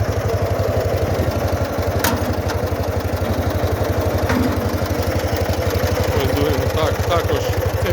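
D-25 diesel engine of a restored KhTZ-012 mini tractor runs steadily close by, a continuous rapid low throbbing knock with mechanical clatter throughout.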